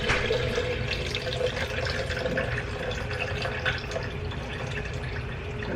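Rinse water from washed rice streams steadily into a pitcher with dripping and sloshing in a kitchen, a continuous close liquid pour without speech.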